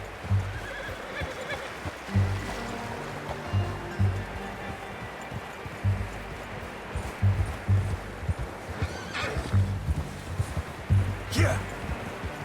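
A horse in the video game Red Dead Redemption 2 whinnies and snorts amid steady clip-clopping hooves and outdoor ambience, with a voice talking over the scene.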